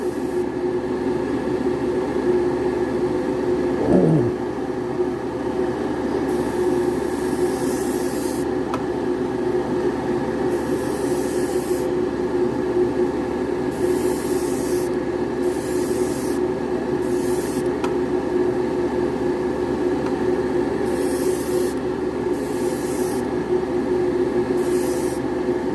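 An airbrush lays a light first coat of Fusion Firm silver foil paint, a continuous close hiss with repeated bursts of spray starting and stopping over a steady compressor hum.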